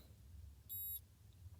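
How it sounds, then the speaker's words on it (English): A single electronic beep, a steady high tone lasting about a quarter second, rings out clearly over a low background hum in an otherwise quiet room. "And it's gonna beep, so just ignore."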